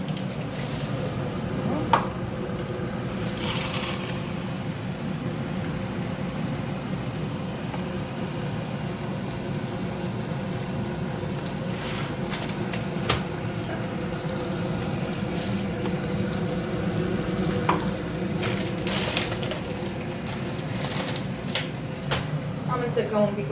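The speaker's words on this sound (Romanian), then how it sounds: "Amestecăm un pic orezul, îl lăsăm să se rumenească cumva." Rice sizzles and browns in a multicooker while being stirred, a soft continuous frying hiss broken by scattered scraping clicks of the spoon, with a person talking throughout.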